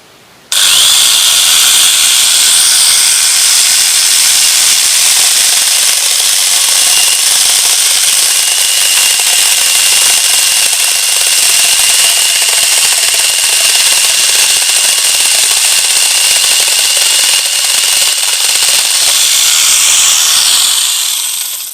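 Electric chainsaw fitted on a 16-inch adapter cutting through hard wood, a loud, continuous high-pitched whine and rasp running steadily for about twenty seconds without pause, close up and alone.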